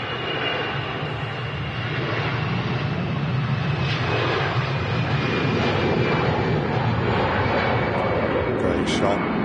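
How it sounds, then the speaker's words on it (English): Lufthansa airliner on its takeoff roll bound for Munich at Manchester Airport, a steady broad engine roar holding strong throughout, with a voice talking over it. "Lufthansa on the roll to Munich."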